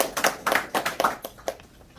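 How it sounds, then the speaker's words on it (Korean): A small audience at a forum on the April 19 Revolution gives a short burst of applause, about eight distinct, close claps in quick rhythm that thin out and fade within two seconds. "쾌유를 비는 힘찬 박수 한번 보내주십시오"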